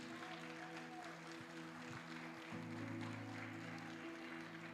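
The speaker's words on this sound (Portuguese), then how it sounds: "Pode aplaudir ao Senhor Jesus." A church congregation applauds during a Sunday morning service, a faint, steady patter of clapping that carries on alone behind a low hum.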